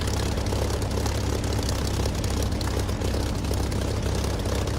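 Steady low propeller-aircraft engine idling on a taxiway in the DCS flight simulator game, a continuous deep drone with airscrew buzz holding evenly throughout, close and loud, with no talk.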